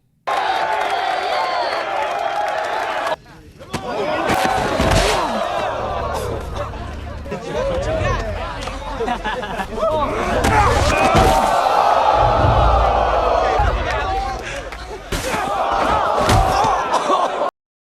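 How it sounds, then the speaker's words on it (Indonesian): A crowd cheers and shouts as a newcomer is pushed into a strength contest, loud rowdy voices surging in bursts with brief drops and sharp thumps between waves of noise. "Suara sorakan membuat orang baru terpaksa menerima tantangan itu"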